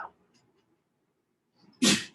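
One sharp, loud sneeze close by, preceded by a faint intake of breath in an otherwise quiet room.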